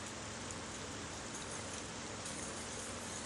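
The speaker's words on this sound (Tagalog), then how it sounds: "Hanggang ngayon, ulan pa rin." Steady rain falling, an even dense hiss of drops on surfaces throughout, fairly faint and constant with no voices.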